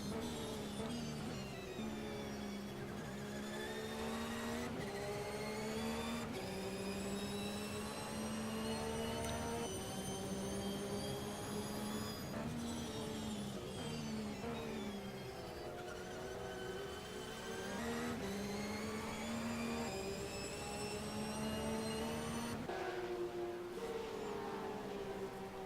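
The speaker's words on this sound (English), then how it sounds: "Let's go on board with Heath and listen to that beautiful Porsche." On-board sound of a Porsche race car engine in a Boxer SuperSeries race at Symmons Plains, a loud continuous roar that climbs in pitch through each gear and drops sharply at every shift, repeating steadily throughout.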